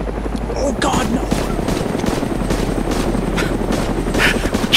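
Helicopters thump and roar continuously in an Arma II DayZ game chase, loud and close with a steady rotor chop, while voices shout over it.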